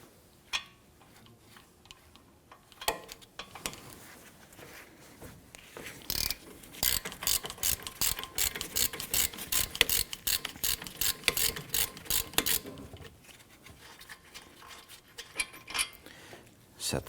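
Ratchet wrench cranking out the 17mm caliper and bracket bolts on a 2017-2020 Hyundai Elantra front brake, starting as scattered clicks then settling into a steady, fast run of close, sharp ratcheting clicks from about six seconds on.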